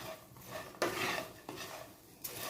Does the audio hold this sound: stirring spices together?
yes